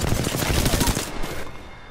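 Rapid gunfire erupts in a video game, a loud burst of closely spaced shots lasting about a second before it cuts off, with voices faintly underneath.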